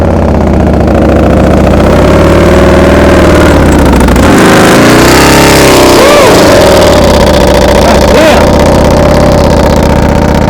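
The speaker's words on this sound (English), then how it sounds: "His motorcycle is loud." A loud motorcycle engine roars continuously up close, its pitch rising and dipping as the throttle revs and eases.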